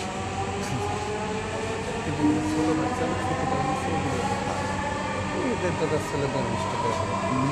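A Dhaka Metro Rail train rumbles steadily along with a continuous low roar and faint rail clatter, while a recorded voice announces the destination and next station over it.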